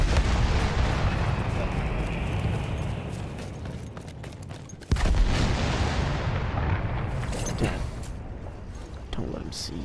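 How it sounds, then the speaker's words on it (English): Missiles launched in Battlefield 1, with rumbling booms over constant loud battle noise and one sharp blast near the middle, heard under a speaking voice. "He's firing off some missiles."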